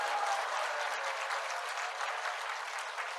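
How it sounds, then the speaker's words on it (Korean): Church congregation applauding during a sermon, a steady wash of many hands clapping at moderate distance, even and sustained the whole time with no voices over it. "박수를 칠 줄 알아야지."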